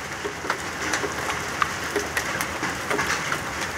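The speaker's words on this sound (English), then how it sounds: "Man, it is hailing. I ain't never seen hail that big." Large hailstones pound down in a 2019 storm, a dense, steady patter with scattered sharper thumps of individual stones striking a surface nearby.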